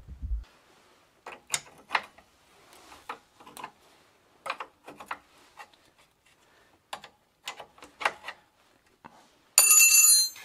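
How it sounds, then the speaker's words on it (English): Sparse metallic clicks and ratcheting ticks from a wrench loosening the rear wheel nuts on a nineties Gazelle Solide bicycle, close and quiet in short irregular bursts, ending with a loud harsh burst of noise. "now I'm going to loosen up the wheel and tension the chain"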